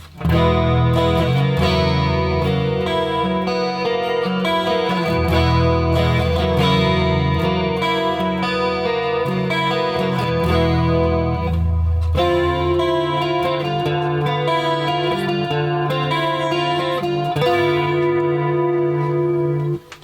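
Electric guitar chords ring out through the shimmering chorus of a vintage Japanese-made Boss CE-2 pedal, played continuously and loudly up close, with a change of chord midway.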